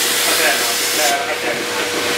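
A milk tank washing machine starting up in a cowshed, giving a steady loud hissing, rushing wash noise throughout with a brief tonal whine, and no talk over it.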